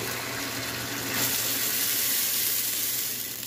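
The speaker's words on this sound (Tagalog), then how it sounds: "ibalik natin yung sabaw na pinakuluan sa kanya para nandoon pa rin yung lapot niya" Boiled broth for balbacua pours steadily back into a pot, a continuous splashing gush that swells slightly midway and carries on to the end.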